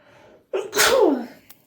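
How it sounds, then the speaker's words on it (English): A single loud, close sneeze: a quick sharp intake followed by a forceful burst that trails off. "I'm about to sneeze. Hang on."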